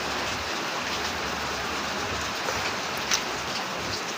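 Steady rain falls through a cold night, a dense, even hiss of drops on surfaces filling the whole stretch, with a faint brief tap near the end and no voices.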